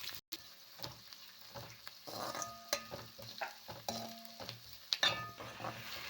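Green chillies and onions stir-fried in a pan, a soft continuous sizzle broken by repeated scraping and clattering strokes of a spatula, close and fairly quiet with no talk.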